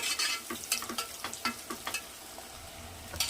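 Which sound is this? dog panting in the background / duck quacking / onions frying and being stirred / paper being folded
onions frying and being stirred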